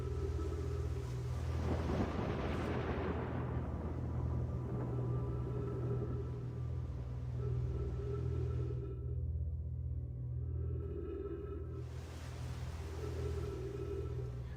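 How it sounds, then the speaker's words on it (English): Deep rolling rumble of an approaching thunderous storm in the video game Outer Wilds, a steady low roar with swelling gusts and brief quieter dips, continuous throughout with no voices. "Sounds like the storm's getting closer."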